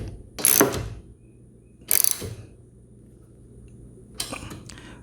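A ratchet tightens an acorn nut on an EZGO golf cart windshield, giving three short close bursts of quick clicking separated by quiet pauses, with no talk.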